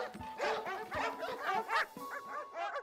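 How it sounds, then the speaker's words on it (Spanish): Several cartoon dogs bark in quick overlapping yips and bow-wows, bright and close, a lively run of short calls with a few whimpering notes mixed in. "La casa estaba llena de perros raros."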